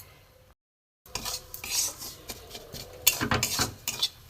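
Semolina tossed in ghee in a pan, with a spoon scraping and clinking against metal in irregular bursts after a brief silent gap; a faint sizzle lies underneath, and no one speaks.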